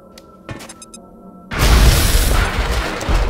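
A single shot fired in the video game XCOM Enemy Within: a quiet lead-in with small clicks gives way to a loud, sudden boom-like blast that holds as a dense, sustained roar to the end.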